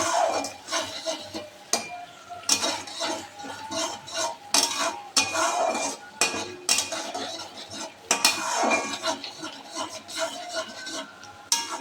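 Spices and yogurt being sautéed in a pan for a pointed gourd dish, with metal utensils repeatedly scraping and clinking against the pan in irregular bursts over a soft sizzle, close and fairly loud.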